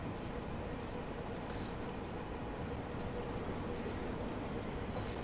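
A Bakerloo Line London Underground train in Train Sim World 2 rumbles steadily along the track in a continuous low roar, speeding up, with a faint metallic squeal of wheels now and then.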